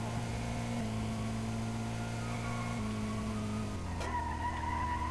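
A car drifts in a video game, its engine holding steady droning tones that shift pitch as it slides, with a sharp skid-like burst near the end and no talking.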